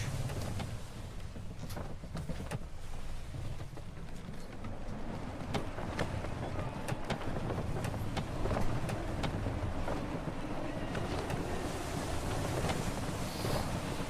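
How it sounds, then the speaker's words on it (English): Gusty wind and rolling waves at sea aboard a sailing ship in Assassin's Creed 3, a constant rushing roar of surf and wind buffeting with scattered creaks and splashes, loud and steady throughout with no voices. "Wind looks to be shifting. Stay alert, Connor. Gusty winds can be difficult to manage."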